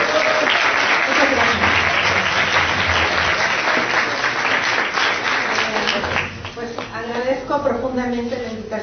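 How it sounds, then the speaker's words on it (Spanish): An audience applauds warmly to welcome a speaker at an academic colloquium on arts and design, steady dense clapping filling the room for several seconds before fading as a voice begins talking. "recibamos con un aplauso a la maestra Verónica Toscano"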